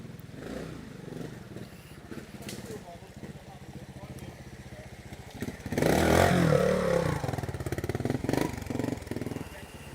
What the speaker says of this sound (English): Here's one of the first clubman riders coming through.